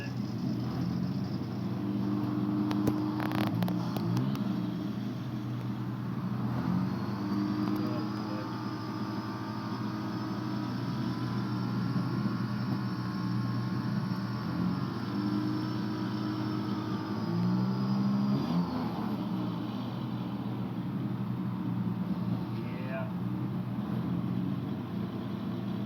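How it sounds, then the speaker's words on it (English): A vehicle engine whose heater is blowing no heat runs at a steady low drone, its pitch rising and easing in long slow swells as it is revved, loud and continuous throughout. "Let's see if I rev it up a little bit."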